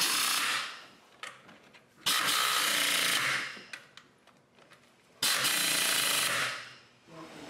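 Repeated bursts of a hand ratchet tightening bolts during a front-wheel-drive clutch and throw-out bearing replacement, three long clicking runs with quieter clinks between, close by and with no talk.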